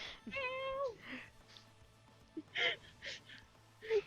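A voice imitates soft cat meows, with a few short mewing sounds and small gasps spread out, near and quiet.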